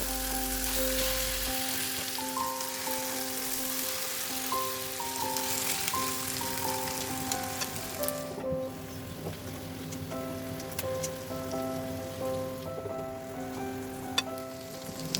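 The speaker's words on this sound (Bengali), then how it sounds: "এইভাবে আরও তিনটি চিকেন পিসগুলিকে ভেজে নেব" Chicken pieces frying in oil over a low flame for restaurant-style peri peri chicken, a steady dense sizzle and crackle running the whole time with no voices.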